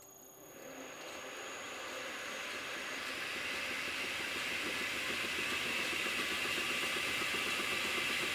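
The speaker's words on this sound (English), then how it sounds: "I'm going to turn the lathe on, adjust the speed, and then I'm going to feed it in with the hand wheel on the end of the tailstock" A metal lathe starts up in a home machine shop and spins up to a steady whirring hum that grows slightly louder and then holds constant, a close, even mechanical drone with no talking.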